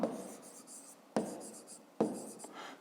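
Pen strokes scratching across paper in three bursts, each starting with a sharp tap and trailing into soft rubbing as math working is written out in a school exercise book.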